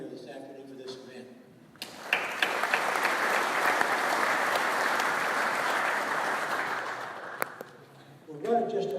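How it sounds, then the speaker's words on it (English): Audience applause fills a hall at a 2018 coal mining expo, a steady clapping roar lasting several seconds, with a speaker's voice briefly before and after it. "So I'd like for you all to give you all a nice round of applause for being here this afternoon for this event."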